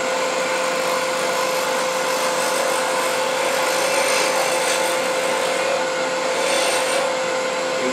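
A wood lathe spins a coffee scoop handle blank at high speed, a steady whirring hum with a sustained tonal whine and faint rubbing texture, continuous and close, with no talking.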